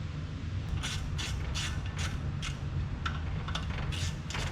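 An engine pulley and V belt on a 1972 Chevrolet C10 are turned by hand, producing a quiet, irregular series of soft clicks and ratcheting ticks over a low background hum.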